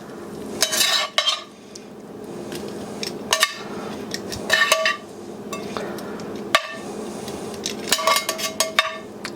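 Browned beef for a beef and shishito pepper stir fry is moved from a pan onto a plate, with scattered clinks and scrapes of utensils against cookware over a faint background sizzle.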